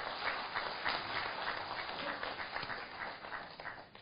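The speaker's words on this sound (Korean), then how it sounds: "다시 한번 큰 박수 부탁드리겠습니다" Audience applause at a commemorative ceremony and international academic conference marking the 1,600th anniversary of the Gwanggaeto Stele, a steady, moderately loud wash of clapping sustained for about four seconds and tapering slightly at the end.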